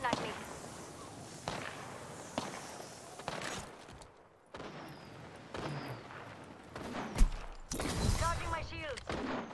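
Apex Legends gunfire arrives as scattered sharp shots and short bursts, some loud and close and others fainter, separated by brief lulls, with game effects and a voice speaking in between.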